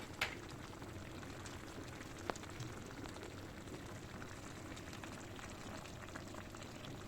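Cabbage rolls (sarma) simmer in a pot on low heat with tomato sauce, giving a faint, steady bubbling with occasional soft pops, close by and with no voices.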